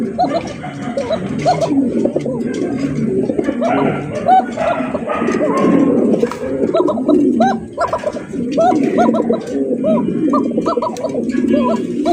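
Pigeons, including dual tumbler pigeons, coo over and over at a busy pigeon market, their soft throaty calls overlapping with people talking nearby throughout.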